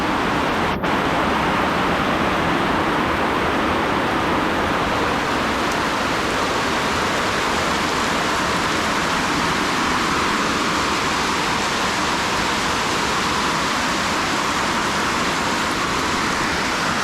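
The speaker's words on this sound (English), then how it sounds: "I'm in Guatemala and it's raining." Heavy rain pours down at a jungle camp in Guatemala, a dense, steady roar of water that holds at the same loud level without a break.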